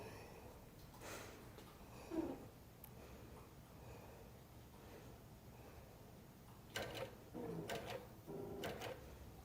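A sewing machine stitches a minky quilt, running faint and steady with a few short louder bursts of stitching near the end.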